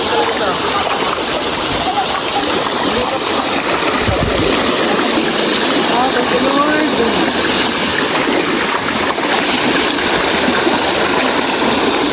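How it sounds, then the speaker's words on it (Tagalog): A river rushes loudly during a crossing on a mountain hike, a constant dense roar of flowing and splashing water with people talking over it throughout. "Oh, kadaan kami ng ilog."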